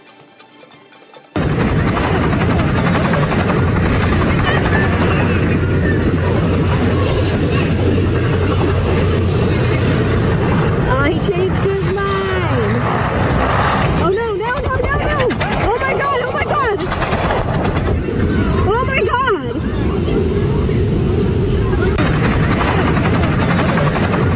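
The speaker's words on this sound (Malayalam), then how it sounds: "ഹണ്ടിംഗ്ടൺ ബീച്ചിൽ കാൽനട യാത്രക്കാർക്കിടയിലേക്കാണ് ഈ ഹെലികോപ്റ്റർ ഇടിച്ചിറങ്ങിയത്" A helicopter crashing among pedestrians at Huntington Beach, California, makes a loud, continuous rotor-and-engine roar that starts abruptly and holds throughout, with voices mixed into the din.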